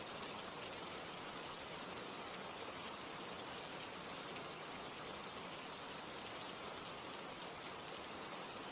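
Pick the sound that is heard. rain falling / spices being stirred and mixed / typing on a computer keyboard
rain falling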